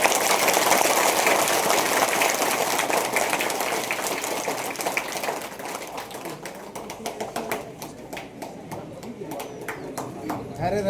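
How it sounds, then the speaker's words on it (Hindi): Children clap together at a school entrance festival in Chipchipi: a dense, sustained wash of applause fades into scattered, sharper individual claps, with voices mixed in underneath. "ताली बजाइए।"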